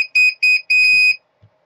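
A LiPo battery alarm plugged into a 3-cell balance port gives loud, sharp high-pitched beeps in quick bursts, then one longer tone before stopping.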